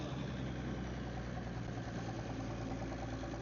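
An International tractor engine rumbles steadily at an old threshers show in Yuma, Colorado, a continuous low chugging drone with no break and no voices.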